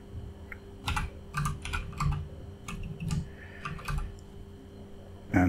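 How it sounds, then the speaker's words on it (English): Typing on a computer keyboard, a brief run of close, crisp key clicks in uneven bursts over a faint steady hum, ending in a louder thump. "in the search bar type in unknown"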